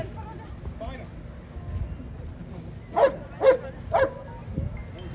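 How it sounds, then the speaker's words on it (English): A police K9 dog at a fall festival demonstration gives three quick barks in a row, moderately close, over a murmur of crowd noise and outdoor background. "He barked, he sat, I don't know if he scratched or not, but he usually does."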